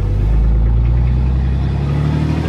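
A loud, close truck engine with its turbo unplugged and vanes open drones steadily at a deep, constant pitch while driving, without a break.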